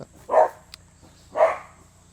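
A very large dog next door barks twice, each bark a loud, full woof about a second apart, close by, with a faint tick between them.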